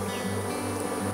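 Thousands of worker honeybees swarm around a beehive, making a steady, dense droning hum that stays even throughout with no voices.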